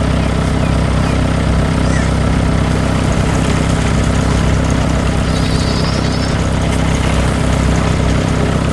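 A tractor engine drones steadily while working a farm field in an animated farm scene, a loud, continuous low rumble with a constant mechanical hum and no breaks.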